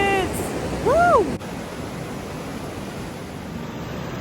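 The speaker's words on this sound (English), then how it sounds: "Look at these rapids!" The rapids of the Icicle River in Leavenworth, in the Cascade Mountains, roar in a steady, dense rush of water, with a short vocal whoop near the start.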